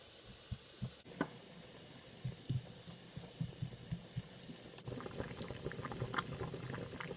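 Potato halves sit in a pot of water on the stove while it boils. Scattered bubbling pops grow into a denser, continuous rolling boil partway through, and no one speaks.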